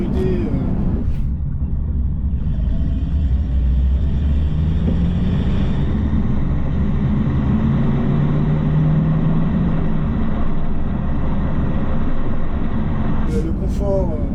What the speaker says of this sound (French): j'adore, même le bruit du V8, la sonorité